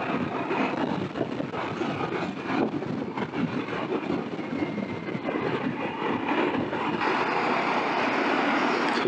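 Honda ADV350 scooter ridden and accelerating on the road, giving a steady, broad rush of wind and engine noise that holds constant throughout, close and loud with no speech.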